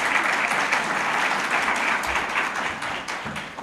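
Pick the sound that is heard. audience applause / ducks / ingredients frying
audience applause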